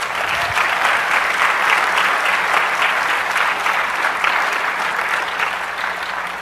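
Loud, continuous applause from a conference audience for a debugger development team, a steady wash of clapping that holds evenly and tapers slightly near the end.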